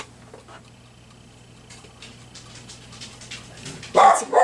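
A dog barks and whimpers during a home crafting session, mostly faint intermittent sounds under quiet rustling before a sudden loud burst of barking near the end.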